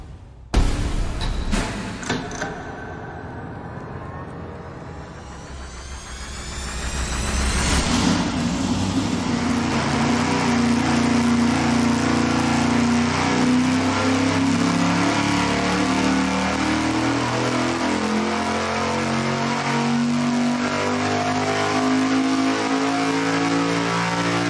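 A V8 race engine fitted with Hilborn injector stacks fires up on a dynamometer, cranking briefly, then catching and climbing to a loud, sustained, rising roar that holds steady at high revs, close and without talk.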